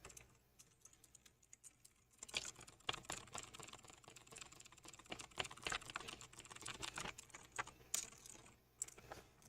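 Fast, clicky typing on an RK100 mechanical keyboard fitted with blue switches, a steady close patter of crisp key clicks running throughout and growing busier partway in.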